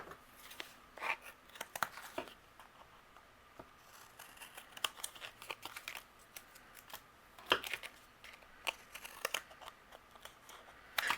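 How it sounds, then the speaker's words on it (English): Scissors trimming excess paper from a card panel, repeated short snipping cuts and light paper rustles in a quiet room, close and fairly soft, at irregular intervals. "And I'll trim away the excess on this."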